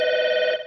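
A telephone rings in a comic shop, a steady electronic tone that holds loud and alone before cutting off abruptly.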